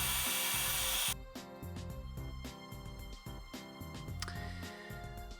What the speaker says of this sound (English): the carbide cutting tools just cut through this stuff like butter